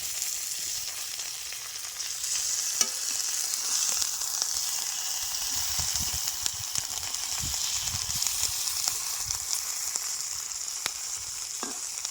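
Giant freshwater prawn paturi frying in a pan, cooked village-style, giving a constant, fairly loud hissing sizzle that carries on evenly throughout with a few faint crackles and no talking.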